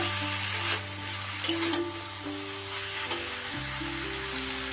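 Dried fish curry with chopped green chillies sizzles and fries steadily in a pan while being stirred, a close, continuous crackle with occasional scraping stir strokes and no voices.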